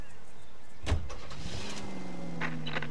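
A car in the video game L.A. Noire gives a sharp thump, then a whirring mechanical sound and an engine-start tone. Moderately loud and close, with no talk.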